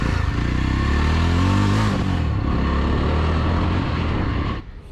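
A Yezdi Roadster 2024 motorcycle engine runs loud and close, a throbbing low rumble with a rising tone early on, then a steady drone that cuts off abruptly near the end.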